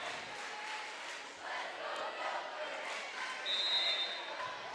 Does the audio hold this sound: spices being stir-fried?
no